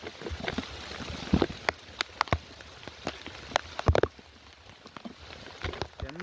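Heavy rain falls on a mountainside at night during a thunderstorm, a steady wash of drops with sharp, uneven splats and knocks hitting nearby surfaces.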